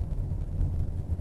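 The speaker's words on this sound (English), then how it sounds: "Still very windy." Steady low wind rumble buffets the microphone, a continuous blustery roar with no other clear sounds.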